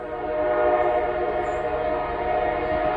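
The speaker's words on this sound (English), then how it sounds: "And I got a train, folks." A long, loud horn blast rings out from a passing freight train, steady and unbroken over a heavy rolling rumble of cars, close by and with no voices.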